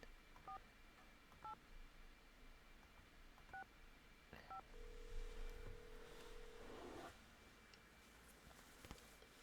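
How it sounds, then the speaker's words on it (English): Touch-tone phone dialing in a Nancy Drew video game: a run of short, evenly spaced beeps, then a longer steady tone over faint, quiet game ambience. "I'm gonna call the Hardy Boys because maybe they will know how to log in."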